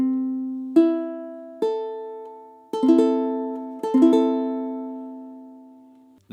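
A minor chord on a tenor ukulele, strummed four times in a loose rhythm with the last two strums doubled, each ringing out and decaying, close and clear with no talking.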